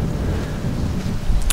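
Rain and thunder in the video game Morrowind: a steady, heavy hiss of rainfall with a low rolling rumble underneath and a brief sharp crackle near the end.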